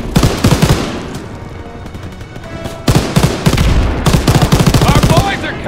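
Rapid, loud bursts of automatic gunfire from a World War II weapon in Call of Duty WW2, two long strings of shots separated by a short pause, with faint battle noise underneath.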